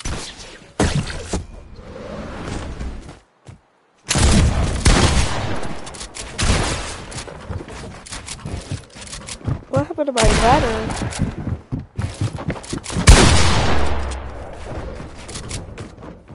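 Fortnite gunfire crackles in loud close bursts and single shots, broken by a brief silence, with voices talking over parts of the firefight.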